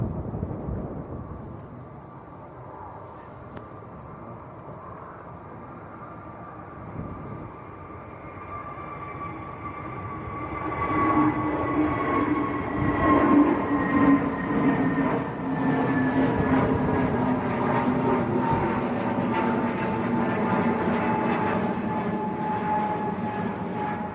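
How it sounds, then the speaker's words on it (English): An EasyJet Airbus airliner bound for Hurghada takes off at a windy Manchester Airport, its engine roar building from a distant rumble into a loud, sustained rising whine layered over gusty wind noise. "EasyJet to Hurghada. Airbus A380 Neo."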